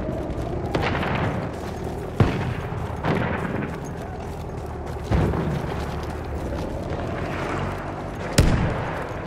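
Bombs explode across the Fao Fortress battlefield in Battlefield 1, several heavy blasts spaced a couple of seconds apart over a constant roar of distant gunfire and rumbling combat.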